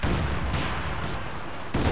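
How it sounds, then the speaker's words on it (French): Mortar and artillery fire in Company of Heroes 2, a dense, continuous rumble of explosive blasts with a heavier thump near the end, loud and filling the whole clip with no talk over it. "Section de mortier, on attaque."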